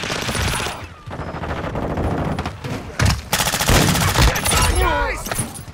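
Call of Duty: Modern Warfare II gunfire, loud rapid automatic bursts in close succession with brief gaps, near and dominant in a busy in-game firefight.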